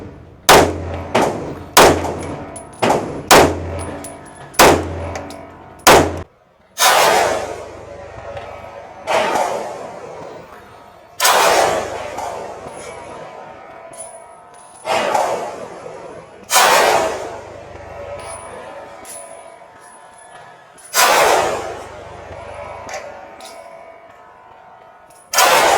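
A 5-inch Kimber 2K11 pistol fires a quick string of sharp, loud shots, then slower single shots spaced a second or two apart, each with a ringing tail, close and dominant.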